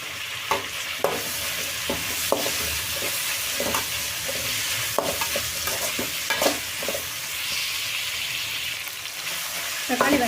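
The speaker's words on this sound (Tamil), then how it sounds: "இது கூட ஒரு தக்காளி அதையும் போட்டு ஃப்ரை பண்ணிக்கலாம்." Tomato frying in a pan with salt for squid gravy, with a continuous close sizzle broken by irregular stirring and scraping clatters, and no talk.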